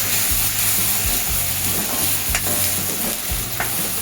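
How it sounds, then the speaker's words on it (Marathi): Ginger garlic paste sautés in hot oil for a soybean and potato curry with a loud, steady sizzle. Repeated low scraping strokes from a spoon against the pan come in a regular rhythm throughout. "अद्रक लसूणची पेस्ट आहे ती पण जरा आपण तेलात परतून घेणार आहोत."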